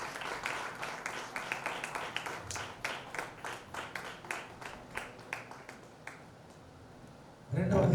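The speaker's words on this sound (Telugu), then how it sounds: "దేవుని సేవకులు వస్తుండగా మనందరూ కూడా చప్పట్లు కొట్టి వారిని ఆహ్వానిస్తాం" An audience at an engagement ceremony claps to welcome the pastor onto the stage, a run of sparse, rhythmic hand claps at moderate distance that fades out before a burst of louder noise at the end.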